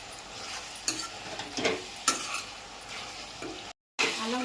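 Ginger and garlic frying on high heat in a pan, steady close sizzle broken by several sharp scrapes and stirring strokes of a utensil, with a brief dropout near the end.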